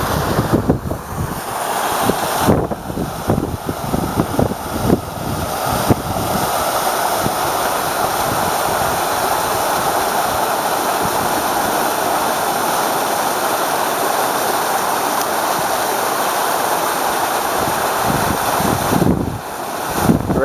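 Rushing water from a waterfall in Bisbee during the monsoon season, a steady broadband roar that holds throughout, with gusts of wind buffeting the microphone.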